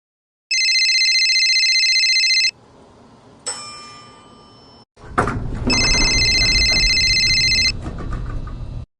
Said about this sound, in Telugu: నాకు ఫోన్ వస్తుంది, నువ్వు పోయి చూసిరా.